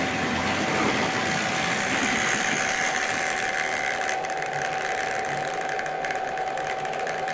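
Hornby Triang Rovex model train locomotive running with its wheels spinning, a steady whirring mechanical drone with a constant high whine, loud and close, no talking.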